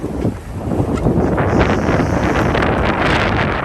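Steady, loud wind gusting 15 to 18 knots buffets the microphone on a sailboat in the mid-Pacific Ocean, with gusty swells and a broad rushing roar throughout.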